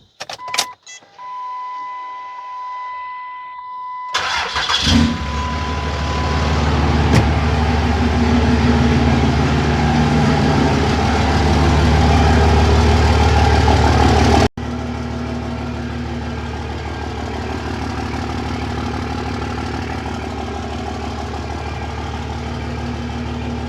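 Heavy truck diesel with a freshly welded 5-inch exhaust cranks over and catches, then settles into a loud, steady, deep idle rumble close by, with a brief drop in level partway through.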